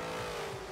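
Race cars launch off the start line in Forza Motorsport 7, a brief, steady engine drone with a sustained tonal whine, fairly quiet and alone.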